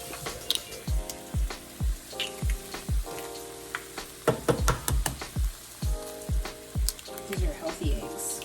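Shrimp and eggs sizzle steadily in a hot pan at a quiet level, punctuated by a series of rhythmic thumps and clacks of a utensil, with someone talking over the cooking.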